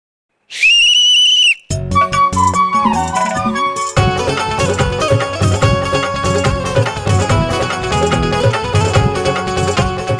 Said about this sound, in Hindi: बजाइए ना सीटी